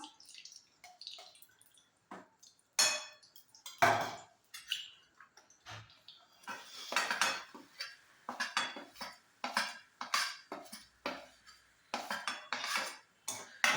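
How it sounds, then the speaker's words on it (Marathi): Finger millet flour is roasted in ghee in a kadai: a spoon repeatedly scrapes and clinks against the metal pan in uneven bursts, with quiet gaps between strokes. There is no speech. "नागलीचं पीठ छान असं भाजून घ्यायचं आहे तुपामध्ये"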